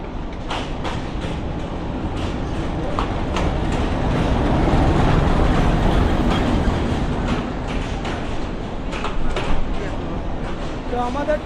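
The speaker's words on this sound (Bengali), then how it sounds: "ট্রেনটা চলে আসলো এখন" A Ramsagar Express train pulls into a station on the Gaibandha to Dinajpur line, with continuous loud rumbling and rail clatter building toward the middle, while people talk nearby.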